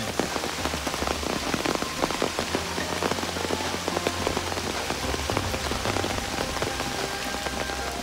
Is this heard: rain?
yes